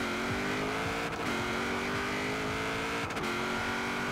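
An engine in a Forza Horizon 4 rear-wheel-drive drag race on stock gearing revs hard off the line. The sustained, loud roar climbs steadily with two quick upshifts, and no one speaks.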